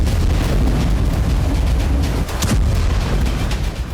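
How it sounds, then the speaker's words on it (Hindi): A heavy explosion from a missile strike in the Russia-Ukraine war roars as a loud, continuous rumble with a sharper burst midway through. "एक चिंगारी बेहद तेजी से आगे बढ़ती है और फिर होता है एक तेज धमाका।"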